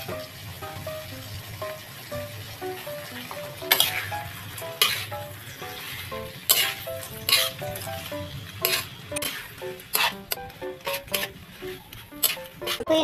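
Shrimp stirred and fried in butter in a pan, with a soft sizzle under repeated sharp metallic clinks and scrapes of a utensil against the pan, irregular and close, growing busier in the second half.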